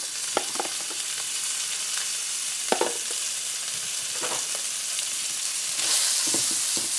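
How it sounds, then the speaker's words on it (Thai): Minced pork stir-fried with garlic in a pan, a loud continuous sizzle with repeated scraping and clacking spatula strokes at an irregular pace, swelling briefly near the end. "ผัดให้หมูพอสุก"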